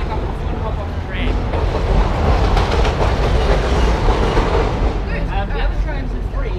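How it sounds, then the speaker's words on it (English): A Melbourne City Circle tram rolls past up close, a loud rumbling roar with rail clatter and squeal building through the middle and easing near the end. "You got our classic tram here, which is the City Circle tram."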